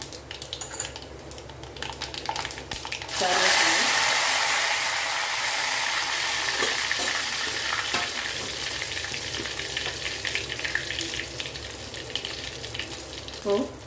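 Mustard seeds, cumin and fenugreek hit hot oil for a drumstick, mango and tomato curry, a soft spattering that swells into a loud steady sizzle with light popping and utensil clicks, close up, no voices.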